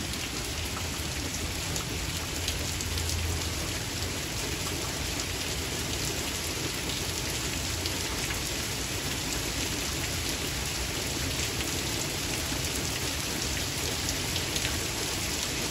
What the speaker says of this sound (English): oh, the rain's getting harder.